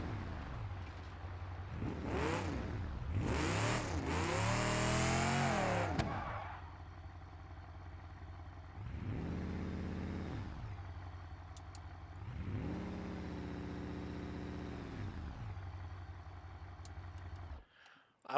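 A Dodge Charger with a small 318 engine revs in BeamNG, a mid-pitched engine rising and falling in several separate bursts, with one long, loud, climbing rev early on and rattly clatter throughout.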